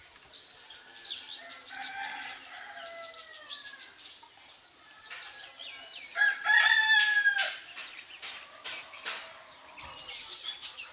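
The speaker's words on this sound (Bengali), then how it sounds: "আমি এখানে কিছু মোরগ এবং মুরগি ছেড়ে লালন পালন করতেছি" Free-range roosters and hens on a farm in Bangladesh: one loud, close rooster crow rings out midway, with softer clucks and other bird calls chattering throughout.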